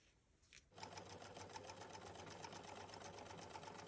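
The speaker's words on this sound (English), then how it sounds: "I'm going to top stitch all the way around there." After a quiet moment, a sewing machine starts up topstitching around a bag made from an old jacket, running steadily with a fast, even mechanical rattle, close and continuous.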